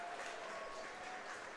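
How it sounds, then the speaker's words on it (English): A distant baseball crowd at an independent league game, Welland Jackfish at London Majors, applauds a catch on a foul ball, a faint, steady wash of clapping lasting throughout. "Sounds like, based on the applause from the crowd, somebody made a great catch on that foul ball."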